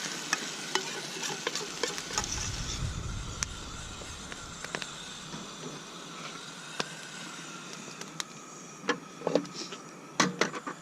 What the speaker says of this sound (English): There, we got us some cheese sauce in the pan now.